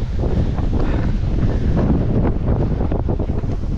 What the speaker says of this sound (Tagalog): Lakas ng hangin yung kaligabok ng lupa. Dinadaanan, grabe. Dinadaanan ng hangin.